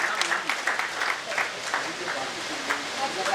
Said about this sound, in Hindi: जोरदार तालियों से स्वागत हो।